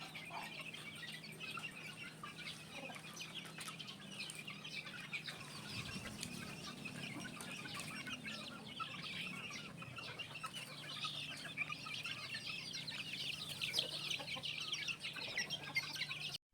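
Young roosters at a game farm cluck near a multipurpose pen under a shady tree, with soft scattered clucks and chirps at a moderate distance over a quiet, steady outdoor background.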